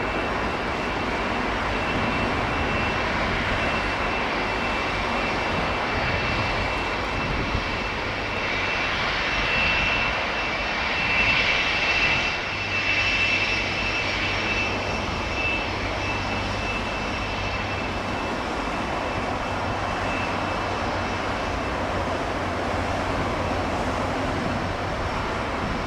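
A jet airliner, one of two empty British Airways 747s during a pilot strike, roars down the runway on takeoff, a loud sustained engine rumble and whine heard from a distance, alone.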